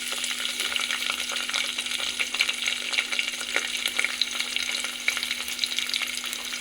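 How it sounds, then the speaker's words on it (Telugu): Sliced onions with curry leaves fry in hot oil for poori curry, a close, even, continuous sizzle with crackling pops and now and then the scrape of a stirring spoon, with no voices. "సో ఆ ఉల్లిపాయలు వేసేస్తున్నాను."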